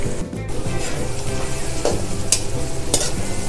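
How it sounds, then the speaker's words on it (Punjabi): Onions fry in a pan and are stirred with a ladle, giving a steady close sizzle with a few sharp scraping clinks of the ladle and no talking. "ਅਸੀਂ ਹਲਕੀ ਹਲਕੀ ਵਿੱਚ ਕੜਛੀ ਮਾਰੀ ਜਾਣੀ ਹੈ ਜਿਹੜਾ ਕਿ ਸਾਡੇ ਪਿਆਜ਼ ਜਿਹੜੇ ਥੱਲੇ ਲੱਗਣ ਨਾ ਸੜਨ ਨਾ"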